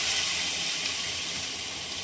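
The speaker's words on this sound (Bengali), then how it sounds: "পেঁয়াজটা তেলের মধ্যে লাল করে ভেজে নেব" Chopped onion frying in hot mustard oil for a fish-head moong dal, a constant close sizzling hiss with no talk.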